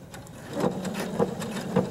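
A sewing machine stitches while tying off a lapped zipper seam, giving three slow evenly spaced thumps over a low mechanical hum at close range, with no talk.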